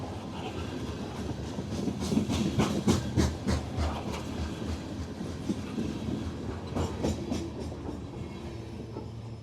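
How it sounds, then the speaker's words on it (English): A loaded grain freight train rumbles past heading south, with steady clattering of wheels over rail joints, loud and continuous, with a faint hiss in the background. "This is a loaded grain train headed south."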